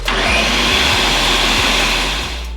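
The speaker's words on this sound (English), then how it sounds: "Blend it a little bit more." A blender runs steadily at high speed blending the red chile sauce for pork pozole, loud and close with a constant whirring roar and no talking, then begins to wind down at the end.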